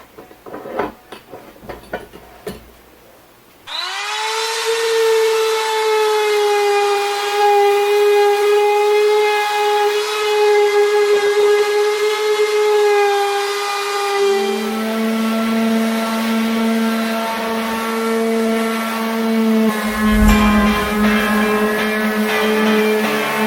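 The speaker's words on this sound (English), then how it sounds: "I'm gonna sand the whole thing" An electric power sander works over a wooden closet office desk, starting with a few clicks, then settling into a loud, steady whining hum whose pitch drops partway through as it keeps running.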